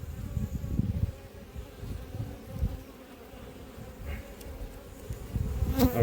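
Honeybees buzz in an opened hive during an inspection, a dense, close, continuous drone with individual bees swelling louder as they pass near.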